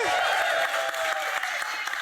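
Audience applause at a dinner panel session honoring Mike Michalowicz, a steady wash of clapping and crowd noise, moderately loud and sustained, with some cheering mixed in.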